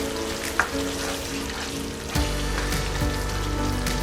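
Okra curry sizzles and crackles steadily in hot oil over a medium flame, a close and continuous frying hiss. A soft clatter sounds near the start, and a slightly heavier sizzle follows partway through.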